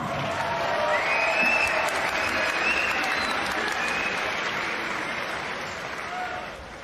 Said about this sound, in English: Ladies and gentlemen, round of applause for both fighters.